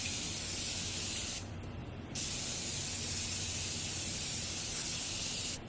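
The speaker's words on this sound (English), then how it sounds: "And now I'm just gonna go in with the Morphe spray and just set my face." Morphe setting spray hisses from a close mist bottle in a makeup routine, two long continuous sprays separated by a brief pause, loud and near.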